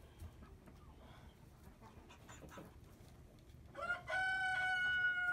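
A broody hen gives a loud, rooster-like crowing call near the end, rising in clear drawn-out tones after a few seconds of quieter yard noise with faint clucks and movement.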